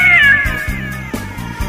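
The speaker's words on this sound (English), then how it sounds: "staring you face to face in the mirror is a cat" A cat meows loudly and close, one drawn-out wailing cry that falls in pitch, followed by rougher, broken caterwauling sounds.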